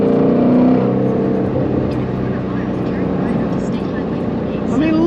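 A Ford Mustang Shelby GT350R with its exhaust open growls loudly, a deep engine drone with harmonic rises at the start and a sharp climbing rev right at the end.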